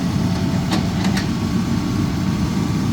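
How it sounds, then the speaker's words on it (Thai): Hitachi Zaxis200 excavator with a long boom, its six-cylinder turbocharged intercooled water-cooled diesel running steadily, a continuous low rumble with a couple of brief metallic clicks, close and fairly loud. "มาพร้อมขุมพลังเครื่องยนต์6สูบ4จังหวะระบายความร้อนด้วยน้ำเทอร์โบชาร์จอินเตอร์คูลเลอร์"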